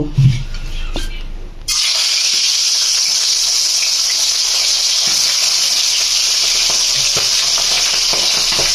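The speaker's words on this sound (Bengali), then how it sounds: "এবার আমরা একে একে মাছের মাথাগুলো ভেজে নেব।" Fish heads drop into hot oil in a wok and fry with a strong, steady, close sizzle and hiss that starts abruptly after a few faint knocks and holds evenly.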